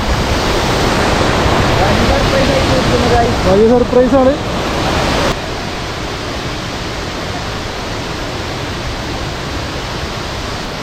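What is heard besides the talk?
waterfall at Punnayar, Idukki, Kerala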